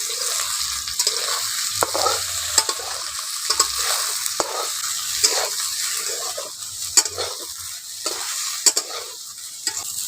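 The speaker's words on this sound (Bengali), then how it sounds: "সয়াবিনগুলোকে নাড়াচাড়া করে ভালো করে ভেজে নেব" Soybean chunks are stir-fried in a pan with a constant crackling sizzle. Frequent spatula scrapes and sharp clicks against the pan mark the steady stirring.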